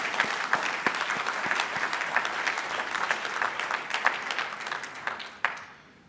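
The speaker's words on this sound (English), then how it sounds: "let's give them one more round of applause to all of our award winners this evening" A crowd at the 2022 Edith and Peter O'Donnell Awards ceremony gives another round of applause for the award winners. The steady, fairly distant clapping from many hands fades out toward the end.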